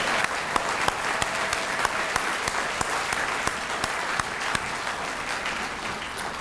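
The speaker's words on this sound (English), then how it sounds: "Let's give them another round of applause." An audience at a student awards ceremony claps steadily for several seconds, a dense, even applause with no voices standing out.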